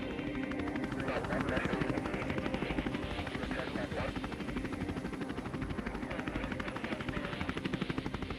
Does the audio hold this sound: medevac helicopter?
yes